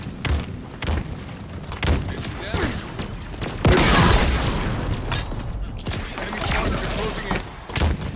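A grenade blast during a Halo Infinite multiplayer match, a heavy booming burst that swells and lingers amid rapid gunfire, mechanical clanks and thuds of the firefight.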